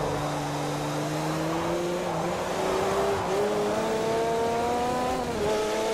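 A rear-engine Peugeot R1 race car in Forza Motorsport 4 drones loudly and steadily, pitch climbing gradually as it revs through gears, with a brief dip near the end.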